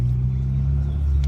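A car engine rumbles low and steady as a learner works a manual stick shift, a brief close drone with no talk over it.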